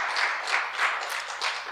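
Audience applause during a church gathering, a steady wash of hand claps at moderate distance with gentle swells in rhythm, no voices on top.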